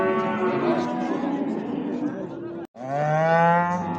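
A cow at the Göksun livestock market in Kahramanmaraş gives a long, loud moo, breaks off briefly, then lets out a second strong moo. It is close, with market noise behind it.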